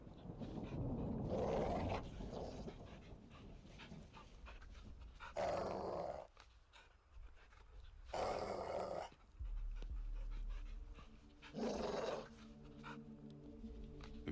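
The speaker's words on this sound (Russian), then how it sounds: "Видел того пса в клетке?" A caged dog in Call of Duty: Modern Warfare II pants and growls in a series of separate bursts, close and fairly loud. Quieter ambient game sound and a low hum fill the gaps between the bursts.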